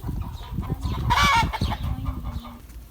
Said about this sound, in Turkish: Tavuktan mı korkuyorsun?